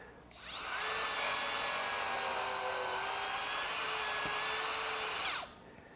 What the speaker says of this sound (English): So we can quickly sand away any material we need to.